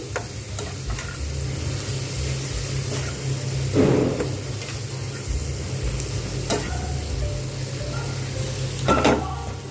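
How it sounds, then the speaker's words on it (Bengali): Ground turmeric, red chili, coriander and cumin frying in a pan, a steady sizzle with a low hum underneath and occasional scraping stirs, with no talking. "হলুদ গুঁড়ো লাল লঙ্কা গুঁড়ো দিলাম আর এখানে একটু ধনে জিরে গুঁড়ো দিয়ে দিলাম দিয়ে আমি পুরোটাকে একদম ভেজে নিচ্ছি"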